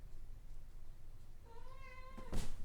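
A house cat gives a single clear meow near the end, a short tonal cry rising out of quiet room noise, followed by a brief bump.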